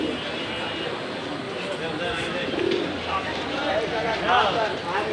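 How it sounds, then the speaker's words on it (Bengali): Pigeons of various breeds at a market coo softly and repeatedly over a continuous murmur of market noise and people talking nearby. "এ বাজারে বিভিন্ন প্রজাতির কবুতর দেখানো হবে।"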